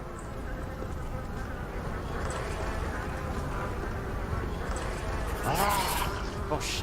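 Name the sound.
buzzing bees in the video game Pathologic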